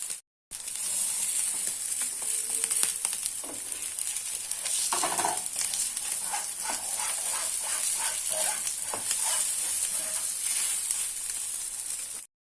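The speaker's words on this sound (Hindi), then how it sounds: "और यहाँ पर मैंने ये जब थोड़ी थोड़ी सी सिकने लगी, इसमें तेल डाल दिया हल्का हल्का सा, और शैलो फ्राई इसको ऐसे ही हल्का हल्का सेकेंगे" Potato tikki patties shallow frying in a little oil in a pan, a steady close hiss with scattered pops and occasional scraping of a spatula across the surface.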